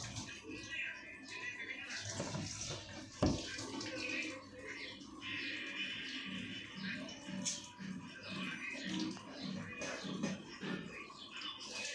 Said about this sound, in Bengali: মেশিনের কল খুলে দিলাম তাড়াতাড়ি